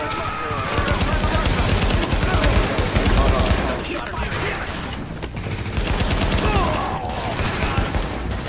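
Sustained automatic gunfire from a weapon in The Division video game, a dense rapid rattle of shots going on without a break, loud and close, with brief lulls in intensity and a voice speaking underneath.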